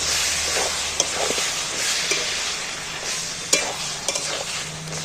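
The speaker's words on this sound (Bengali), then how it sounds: "এইভাবে চাপা দিয়ে দিয়ে একটু আমি কষিয়ে নেব, তাহলে কষানোটা খুব ভালো হয়" Young jackfruit curry stir-fried in a covered pan, a steady loud sizzle with intermittent scraping and clinking of the spoon against the pan, no speech.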